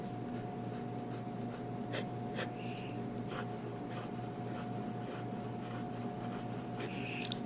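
A Jinhao fountain pen with a Goulet broad nib writes on paper, its soft continuous scratch running steady and close for the whole stretch, with small strokes and pauses and no talking.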